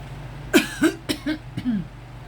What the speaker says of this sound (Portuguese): Tossindo com pigarro.